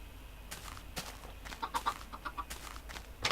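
Chickens in Minecraft give short, soft clucks in an irregular scatter of brief calls, fairly faint and with no talk over them.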